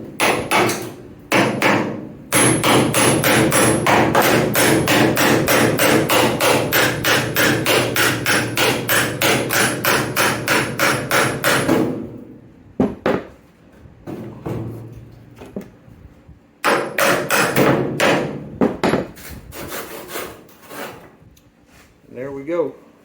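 Repeated rapid hammer blows strike a door hinge on a 1951 Ford F1 truck, a long loud run of metallic hits followed by pauses and shorter bursts, with occasional talk between.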